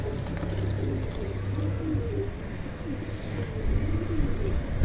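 Breeder pigeons of a Sialkoti line coo in a steady, low, overlapping murmur from close by, with birds calling throughout over a dense background.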